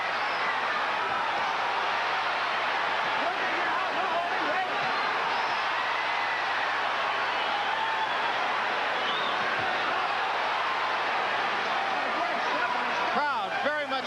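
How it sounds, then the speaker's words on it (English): Dense, roaring crowd noise from spectators at the Sugar Ray Leonard versus Marvin Hagler boxing match, a continuous wash of cheering and shouting throughout with commentary voices over it. "Crowd very much into this fight early."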